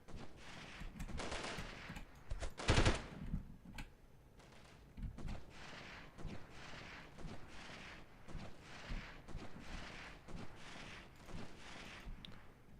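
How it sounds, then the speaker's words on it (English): Sniper gunfire in the 1998 video game Delta Force, one sharp loud shot standing out early, followed by fainter scattered distant reports and ambient rumble. "Whoever that sniper is, it sounds like it's coming from right over there"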